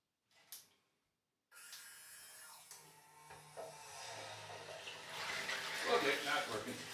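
A portable USB rechargeable camping shower clicks on after a short silence, then sprays warm water in a steady, hissing stream that builds in strength.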